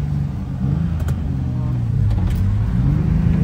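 A turbocharged BMW E36 engine running on five cylinders holds a loud, uneven, rough idle, with a low rumbling drone and slight shifts in pitch, as voices speak nearby.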